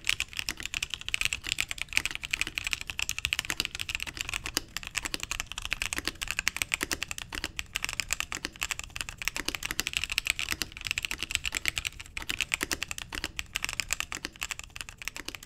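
Computer keyboard modded with foam and paper tape, typed on in a sound test: a rapid, steady stream of muted, close keystrokes clicking away continuously for about fifteen seconds, with no voices.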